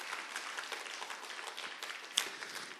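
Members of a church congregation clap together in a brief, soft round of applause, a steady patter of hand claps heard at a distance.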